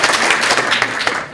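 Studio audience applauding as a show-of-hands style vote for a favourite story character, a dense, steady wash of many hands clapping at close range for about a second.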